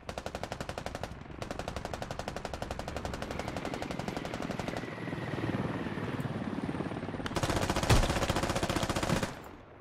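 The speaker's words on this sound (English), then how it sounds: "Helicopter coming back for a second round." Helicopter flying overhead with bursts of machine-gun fire in a squad video game, rapid rhythmic chopping and rattling that stays close and loud, growing heavier toward the end with a sharp shot near the finish.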